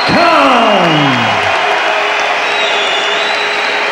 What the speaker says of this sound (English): the crowd give Amir Khan his due acclaim